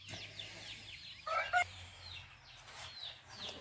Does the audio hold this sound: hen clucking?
yes